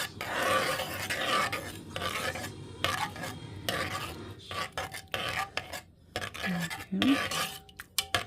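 A spoon stirs shrimp Creole sauce in a pan with rhythmic scraping and rasping strokes over a soft sizzle, close and moderately loud, with a brief spoken word near the end.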